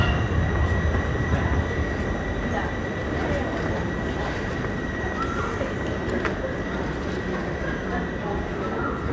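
A train rolls through an Amsterdam station at night, a steady rumbling drone with a thin high tone throughout, while voices murmur in the background.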